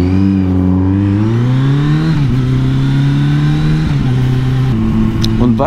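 A loud moped engine drones and revs steadily while riding along a tight road, pitch rising and dipping with throttle changes, close and continuous throughout with a voice speaking over it.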